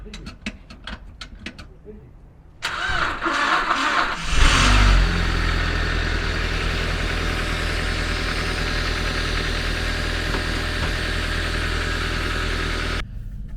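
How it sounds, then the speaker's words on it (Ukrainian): A Volkswagen Passat engine driving onto a garage lift, a few clicks before a steady, fairly loud engine drone starts, with a brief rev surge and then an even running note. "Я очікував черги на підйомник, і нарешті я туди їду."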